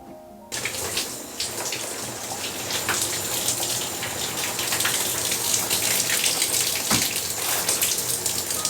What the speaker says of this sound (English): All right, so time for the cold shower.